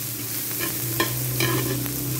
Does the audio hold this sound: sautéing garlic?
yes